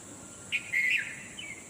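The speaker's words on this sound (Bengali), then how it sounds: "পাখিরা ভোরে কিচিরমিচির করছে" A few separate bird chirps and a short warbling call ring out at dawn against a constant high buzzing background, moderately loud, no talking.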